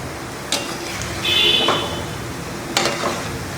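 Rava gulab jamun fry in hot oil over low heat, a close, steady bubbling hiss with a few brief clinks and scrapes rising above it.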